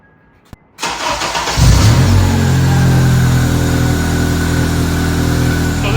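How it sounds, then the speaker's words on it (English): A 2003-2007 Honda Accord 2.4L VTEC engine cranks briefly after a short click and then catches, settling into a loud, steady idle heard up close with no talking. "So now I'm going to start the car."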